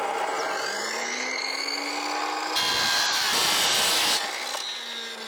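Power tool cutting an aluminium profile for polycarbonate carport panels, a loud whining motor with shifting pitch and a harsher, brighter grinding burst in the middle as the blade bites the metal, no talk.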